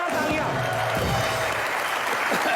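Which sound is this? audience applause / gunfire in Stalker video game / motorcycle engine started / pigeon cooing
audience applause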